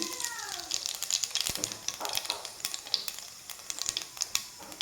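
Dry red chillies frying in hot oil for a vegetarian eggplant curry give a steady close crackling sizzle, broken by sharp clicks of a spoon stirring the pan, with a brief voice near the start.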